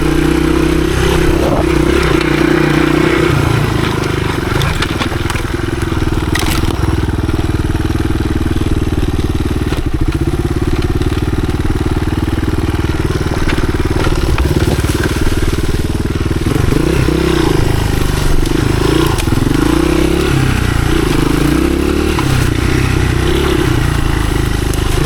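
A 1983 Honda XR200R dirt bike, a small 15 hp machine, rides through the woods with its engine loud and steady throughout, rising and falling as it revs, with some rattle and clatter along the trail.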